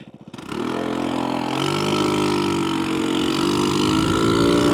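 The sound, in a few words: scooter engine idling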